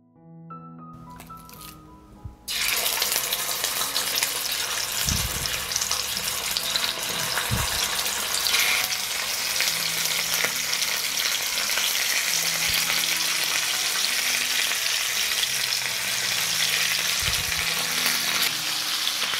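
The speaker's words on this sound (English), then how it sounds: "I will sear the meat for 2 minutes on both sides." Meat searing in hot olive oil in a frying pan, a loud steady sizzle that jumps up after a quiet start and holds for the rest of the clip, with a few soft knocks of utensils against the pan.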